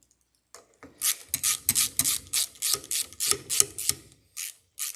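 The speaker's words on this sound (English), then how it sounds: "Okay, now I can go on with telling you to tighten the bolts evenly. So we just snug them all up." Close, crisp ratchet clicks in about a dozen quick strokes, each a separate burst, as bolts are snugged down evenly on a Mercury 4hp outboard motor; no voices.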